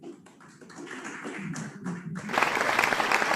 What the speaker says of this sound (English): welcome with a huge round of applause